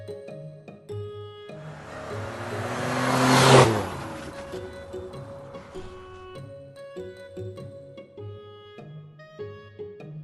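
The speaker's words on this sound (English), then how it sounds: "Mini car." A toy mini car's driving sound effect rises to a whooshing peak and fades, playing over bright, tinkling children's music.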